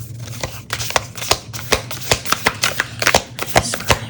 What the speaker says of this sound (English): So let me just get these cards, big cards. I'll shuffle out some more.